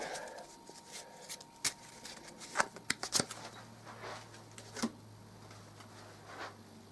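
Playing cards for the board game Eldritch Horror being shuffled in quick bursts of riffling and sharp flicks, fairly quiet and close, with brief pauses between.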